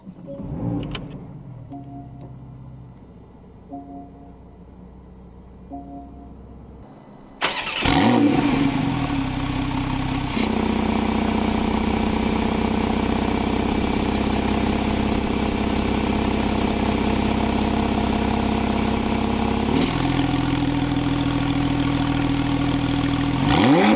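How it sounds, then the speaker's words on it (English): A 2019 Porsche 911 (991) Carrera S with the 7-speed PDK, heard with a few chimes, then a loud close engine start that settles into a steady idle with raised revs in between, and no talking. "here's the startup and revs"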